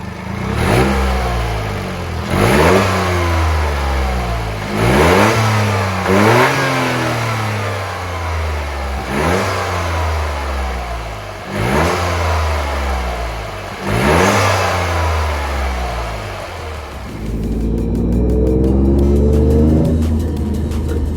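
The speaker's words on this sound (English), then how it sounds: "let's turn traction control off and let's give it some revs" Toyota GR Yaris engine with a panel air filter, traction control off, revved repeatedly, about eight rising vroom bursts in a steady rhythm, each falling back to idle, loud and close, ending in a rougher rumble.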